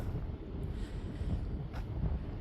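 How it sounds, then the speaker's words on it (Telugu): Evening sea breeze on a beach in Oita, Japan, buffeting the microphone as a steady low rumbling wind across the whole clip, with no talk. "ఈ సముద్రపు గాలి"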